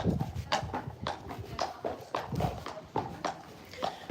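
A horse's hooves clip-clop at a walk on a road around a village, a steady even rhythm of roughly two strikes per second, fairly close and moderately quiet, with no talking over them.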